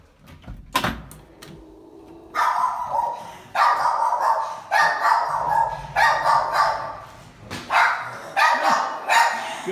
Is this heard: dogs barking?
yes